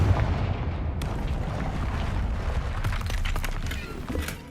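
A Confringo fire spell detonates in Hogwarts Legacy with a heavy, rumbling explosion, followed by a sustained roar and crackling debris that fade slightly toward the end.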